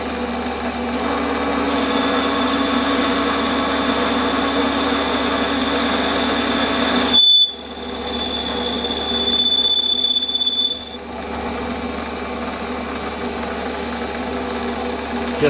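A metal lathe runs steadily through a roughing cut, with a constant motor hum and a thin high whine from the cutting tool. The whine brightens briefly and then cuts out, while the machine keeps droning close by.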